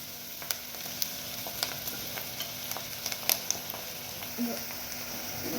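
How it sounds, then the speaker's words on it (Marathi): Onions fry in a pan for spicy mutton sukka masala, giving a steady close sizzle with scattered clicks and taps of a spoon stirring throughout. "कांदा लालसर होऊ द्यायचा आहे"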